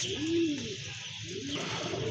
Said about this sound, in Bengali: খুবই সুন্দর ভালো মানের এক জোড়া কবুতর দেখেন আপনারা